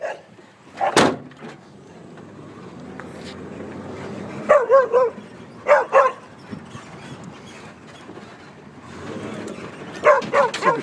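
A dog barks in short bursts outdoors, a sharp loud yelp early, then clusters of two or three barks spaced several seconds apart, moderately close, with no speech over them.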